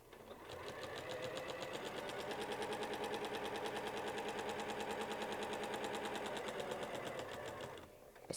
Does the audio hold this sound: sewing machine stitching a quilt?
yes